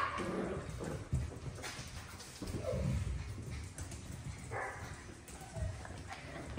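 A litter of mini Aussie mountain doodle puppies barks and whimpers in short, scattered bursts, fairly close and mixed with ongoing human talk and background noise.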